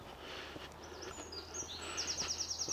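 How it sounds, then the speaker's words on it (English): Soft bird chirps over a hushed outdoor background near water and trees in Suffolk, ending in a quick, repeated high trill. "There's lots of birds singing."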